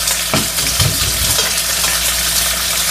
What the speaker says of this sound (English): cooking this pork chop that was already cooked in the oven